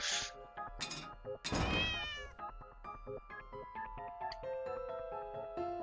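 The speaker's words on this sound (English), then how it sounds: "I'm controlling the cat and I have to get out of this cage." A cat meows in the video game The Cat Lady, trapped in a cage: a few short, sharp cries lead into one long, loud, strained meow, then fade under soft, steady background music.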